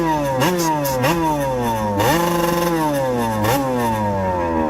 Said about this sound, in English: This is the first year of the liquid cooled